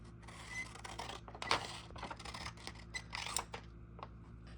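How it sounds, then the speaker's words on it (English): Scissors snip through the top of a paper squishy, giving repeated close crisp crunches and scrapes over faint low background hum. "we're going to want to cut the top off right here"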